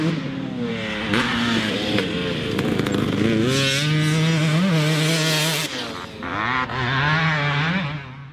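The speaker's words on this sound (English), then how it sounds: "We just paired that up with a Pro Circuit silencer, and that just sharpens up the sound" A dirt bike engine fitted with a Pro Circuit silencer and a Moto Tassinari V-Force reed block revs loud and close, climbing and falling through several sharp throttle blips with a raspy, crackling exhaust note.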